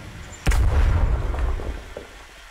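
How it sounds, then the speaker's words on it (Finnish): Explosion in the video game SCP: a sudden sharp blast followed by a heavy, rumbling boom that rolls on and slowly fades over a couple of seconds. "Kohta paukkuu."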